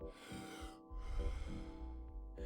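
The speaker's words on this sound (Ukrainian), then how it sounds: "Потужний вдих, легкий видих. Потужний вдих, легкий видих." Wim Hof method breathing: forceful, rapid inhales followed by light, relaxed exhales, repeated in close rhythmic cycles, heard near and fairly quiet.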